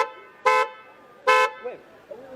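A car horn gives two short, loud honks about a second apart, close by, with faint voices in the background between them.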